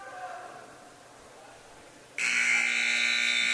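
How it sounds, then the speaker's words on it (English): A loud electronic buzzer ending a period in a college wrestling match blares suddenly after a quiet stretch and holds steady to the end. "There you hear the buzzer."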